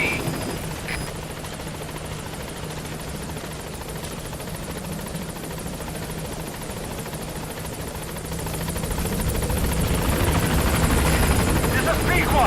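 The Pequod helicopter in Metal Gear Solid V approaches a landing zone, a continuous rotor chop and engine whine that grows louder and closer toward the end.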